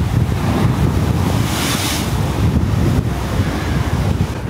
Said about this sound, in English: Oh, look at these waves.